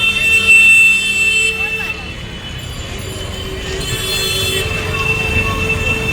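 Trains at Sealdah railway station in Kolkata: a continuous rumble of rail traffic with high, drawn-out squeals of wheels on track, steady and moderately loud throughout.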